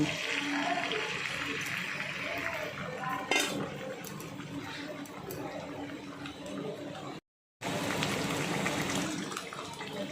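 Two eggs cracked into hot oil in a pan while making a pointed gourd (potol) fry, giving a steady, close sizzle and crackle that runs nearly throughout, broken by a brief silent gap.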